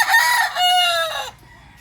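A bulik rooster with a straight comb crows once, loud and close, the call rising then trailing off into a few soft clucks before quiet.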